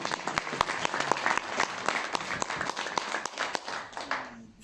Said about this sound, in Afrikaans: Ek wil hê dat ons vir hulle 'n fantastiese hande klap